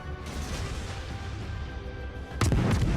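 A World of Warships naval gun salvo: after a steady engine hum, a sudden loud burst of heavy cannon fire erupts near the end and keeps rumbling.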